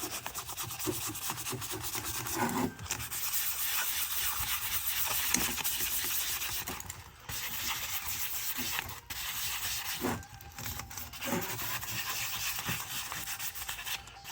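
A hand scrubber works rust off the joints of a buhurt armor gauntlet, producing close, continuous rough rubbing and scraping strokes with brief pauses between passes.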